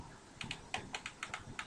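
Close-up computer keyboard key presses in a music production session in FL Studio, about ten quick, crisp clicks in an uneven rhythm over faint background hiss, with no talking.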